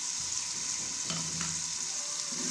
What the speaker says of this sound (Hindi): अभी इसमें डालेंगे हम टमाटर। बिस्मिल्लाहिर्रहमानिर्रहीम। हमने टमाटर डाल दिए।